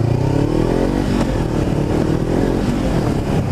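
A motorcycle engine drones loudly and steadily at close range as the bike pulls away on a rough training ground for an emergency braking exercise in a licence practice session.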